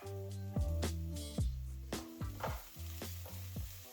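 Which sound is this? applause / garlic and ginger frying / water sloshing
garlic and ginger frying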